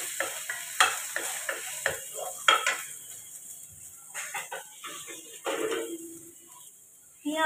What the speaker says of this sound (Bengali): এবারে এতে দিয়ে দেবো রসুন অল্প করে